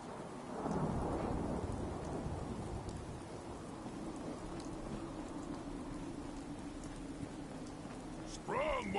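Thunderstorm with steady rain in the video game Fallout, a low rumble of thunder rolling in early and then a continuous hiss of rainfall, with a voice briefly at the end.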